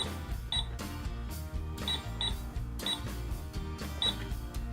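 A Mickey Mouse Clubhouse toy cash register has its buttons pressed repeatedly, giving bright electronic beeps over a steady busy background, close and fairly loud with no talking.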